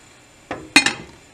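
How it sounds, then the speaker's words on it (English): A metal lid is set back onto a cooking pot, giving one soft knock and then two quick bright clinks close by. "going to put the lid back on"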